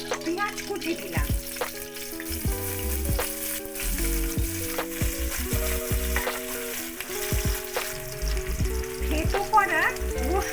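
Chopped onion fries in a pan for a Bangladeshi chicken curry, giving a steady, close sizzle that runs the whole time beneath loud background music.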